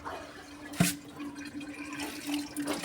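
Slit fruit is washed in water before pickling, with faint splashing, dripping and sloshing close by, one sharper splash near the start and a low steady background hum.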